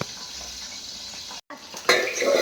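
Lid set over a pan of potato-stuffed capsicum simmering on the stove, a short clatter and a brief gap, then a louder metallic knock and rattle of the cover settling.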